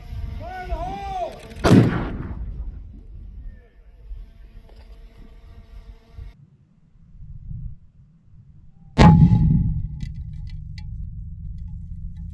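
A hard-rock blasting charge goes off with a sharp, loud boom and a rumbling tail, then a second heavy blast follows several seconds later. A voice is heard at the start before the first blast.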